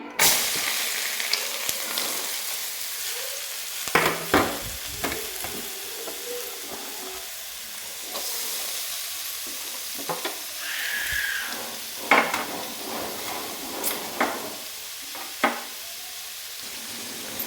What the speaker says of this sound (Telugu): ఇలా ఆయిల్ బాగా వేడైన తర్వాత ముందుగా కట్ చేసి పెట్టుకున్న క్యారెట్ అయితే ఇలా వేసేసుకున్నాం